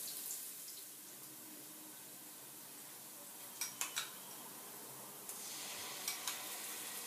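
Garlic cloves sizzle softly in a pot as they are stirred in for Greek beef youvetsi, with a faint continuous fry broken by a few sharp clinks of the spoon against the pot.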